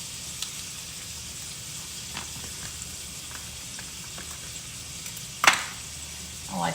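Red pepper flakes hitting hot oil in a pan for tomato spinach shrimp pasta give a steady soft sizzle, with one brief louder crackling burst near the end.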